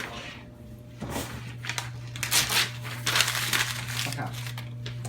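Paper crinkles and rustles in several close bursts over a steady low hum, like sheets of a paper pad being handled and shifted.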